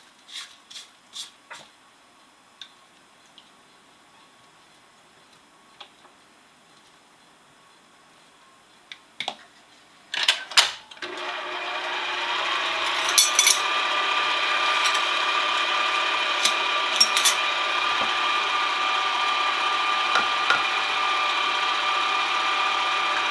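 An electric mixer beating eggs into chocolate chip cookie dough starts up after some scattered clicks and knocks, then whirs steadily and loudly with a constant hum and a few occasional clatters.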